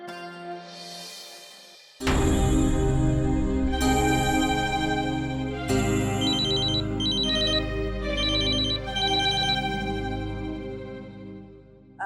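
A telephone rings with a loud electronic melodic ringtone, repeating tones that start abruptly and carry on for about ten seconds, close and clear with no talk.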